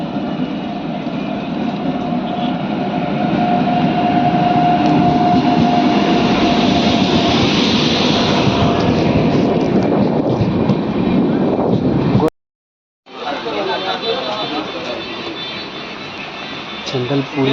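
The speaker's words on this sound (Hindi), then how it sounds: "ट्रेन सामने आ गई है।" Purvanchal Express 15050 rolls into a station platform, its loud continuous rumble and clattering wheels filling the foreground as voices chatter nearby, cutting out briefly before the train noise resumes.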